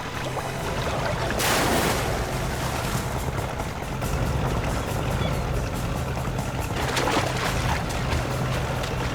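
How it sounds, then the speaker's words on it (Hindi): A boat being pushed through water, with continuous splashing and churning close by, broken by louder surges of sloshing water. "तुम वहां से नाव को धक्का लगाओ"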